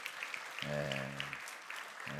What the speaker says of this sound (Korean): 다시 한번 큰 박수 한번 쳐주세요.